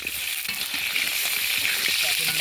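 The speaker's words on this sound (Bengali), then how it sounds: "এখন মাংস আলু ভাজা যাচ্ছে" Meat and potatoes fry in oil at an outdoor picnic cookout, a steady close hiss and sizzle with occasional stirring clatter, with no talk over it.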